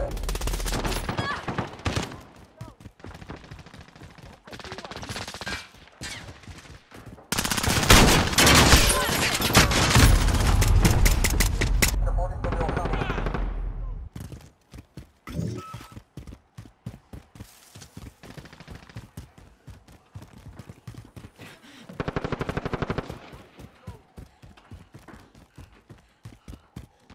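Gunfire from the video game Call of Duty: Modern Warfare comes in rapid bursts and single shots, with one loud sustained barrage in the middle and scattered cracks afterward, mixed with footsteps and brief talk.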